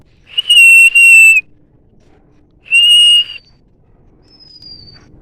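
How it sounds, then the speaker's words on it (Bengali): Two loud, clear human whistles, the first a doubled blast and the second a single one, followed by a faint, thin whistle from a pet bird answering in the distance. "আমি সিটি দিলাম ওরাও সিটি দিল"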